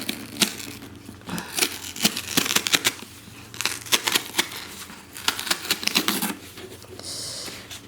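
A BIOTYfull Box beauty subscription parcel is opened up close in a soft ASMR setting, with bursts of crisp tearing, crinkling cardboard and paper rustles in uneven clusters, without any talk.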